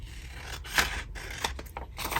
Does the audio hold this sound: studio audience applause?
no